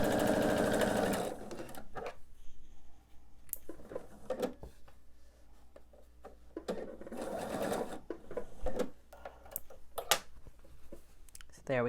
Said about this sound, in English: I'm just going to make sure to sew right on top of the stitching that I've already done